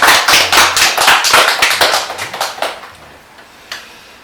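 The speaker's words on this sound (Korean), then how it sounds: "우리가 박수로 우리 상학이를 환영하겠습니다" A church congregation clapping to welcome a newcomer, rapid close claps from many hands, loud at first and then fading out, with a single late clap near the end.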